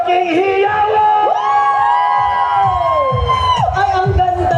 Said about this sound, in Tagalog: isang malaking hiyawan!